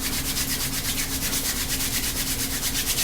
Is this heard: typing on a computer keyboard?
no